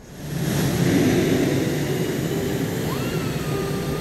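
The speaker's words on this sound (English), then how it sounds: "Right after takeoff, as the wheels retracted, the plane suddenly arced up." A fighter jet takes off in the Ace Combat 7 video game, a loud sustained jet roar that swells in after a brief quiet start and holds steady, with a thin rising whine near the end.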